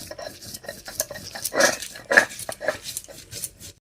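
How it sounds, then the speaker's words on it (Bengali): Cumin and chili paste being ground by hand on a traditional stone slab with a stone roller, a run of close, irregular scraping and grinding strokes of moderate loudness, alone with no talk. "এবার এই অল্প মশলাটাকে আমি শিলে সুন্দর করে বেটে নিচ্ছি।"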